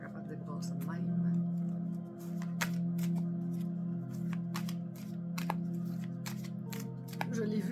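Tarot and oracle cards shuffled by hand in repeated quick riffling bursts, close and fairly soft, over a steady low background hum with a voice speaking at times.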